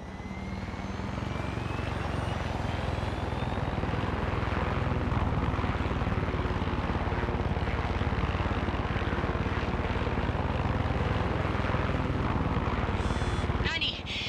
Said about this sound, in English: Let's go bring this chopper.